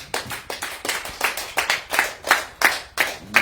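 Rhythmic hand clapping from a church congregation during a French-language service, steady beats about three per second, fairly close and loud with no talking over it.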